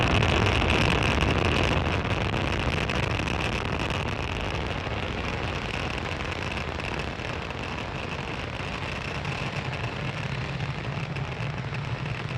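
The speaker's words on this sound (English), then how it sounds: "Falcon 9 has successfully lifted off from Space Launch Complex 40 at Cape Canaveral Space Force Station" Rumbling roar of a SpaceX Falcon 9 rocket's engines climbing away after liftoff from Space Launch Complex 40 at Cape Canaveral, steady and distant, with broad low rumble and wind-like hiss that holds through the stretch and eases slightly.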